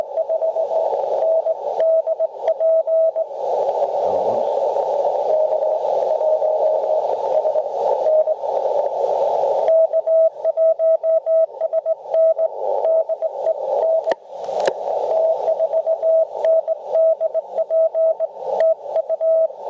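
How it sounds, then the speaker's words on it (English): Morse code beeps in a steady single tone, keyed by hand on a straight key with uneven dots and dashes, over faint radio hiss and static. "that sounds like a straight key"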